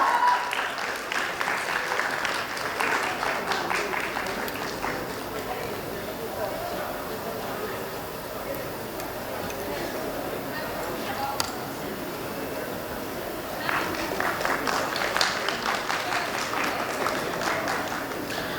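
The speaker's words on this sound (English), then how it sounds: "Please give her a round of applause." A convocation audience at R G Kar applauds for a long stretch, dense clapping that eases in the middle and swells again near the end, with some voices mixed in.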